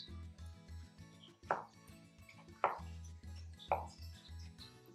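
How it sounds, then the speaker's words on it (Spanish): A knife chops potatoes into small cubes on a board, three sharp close knocks spaced about a second apart over quiet background music. "Voy a picar la última que me queda, que la vamos a picar en cuadritos."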